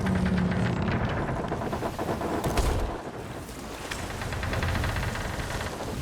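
Sinking ship in the video game Sea of Thieves, taken on too much water, with a low creaking groan under a dense wash of wind and waves that stays loud throughout.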